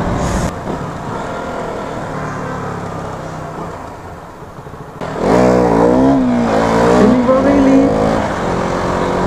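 A Royal Enfield Bullet motorcycle engine thumps on a night ride with traffic around, a steady drone that jumps louder and revs higher partway through.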